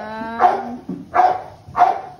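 A dog barks three times in a loud, close sequence, each bark short and evenly spaced, with a brief whine-like tone leading into the first.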